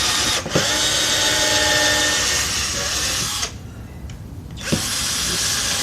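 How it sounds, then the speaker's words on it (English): A power drill drives screws into wooden crate boards, whirring loudly and steadily for most of the stretch with two short pauses between runs. "This drill wants to keep coming out"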